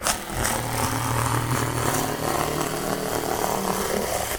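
A Ryobi power cutter tears through a tough cardboard box, its loud, steady motorized buzz and grinding running without pause the whole time, close to the listener with no talking.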